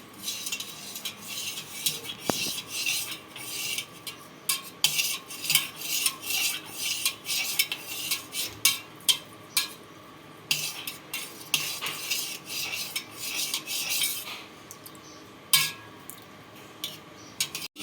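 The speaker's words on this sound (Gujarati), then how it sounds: "હવે આપણે ચમચીથી હલાવી નાખશું." A metal spoon stirs lemon juice into a glass of water, giving repeated close clinks and scraping taps against the glass in an irregular rhythm, with no talking.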